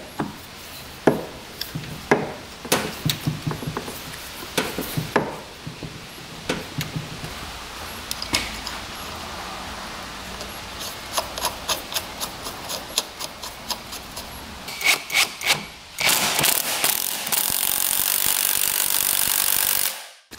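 Metal parts are clicked, tapped and ratcheted together while a flywheel is fitted to a dirt bike engine in a workshop, with scattered knocks building to quick ticking bursts, then a steady loud whir near the end.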